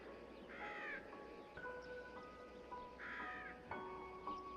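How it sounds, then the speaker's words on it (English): A bird, most likely a seagull, gives two harsh cawing calls a few seconds apart, heard at a moderate distance over a faint background with some thin tonal sounds between the calls. "I don't even think it's a crow."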